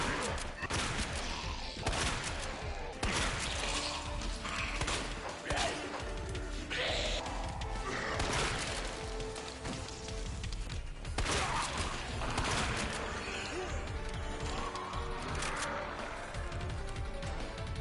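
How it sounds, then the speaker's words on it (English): Shotgun blasts ring out again and again as zombies on a staircase are cut down in Resident Evil 2 Remake, each heavy report landing over a dense, continuous bed of game noise and music. "we take out all the zombies camping the stairs with our shotgun"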